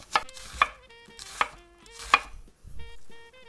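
Half an onion is finely minced with a knife on a cutting board, giving four crisp, evenly spaced chops followed by a softer scrape, with faint ringing tones lingering between strikes.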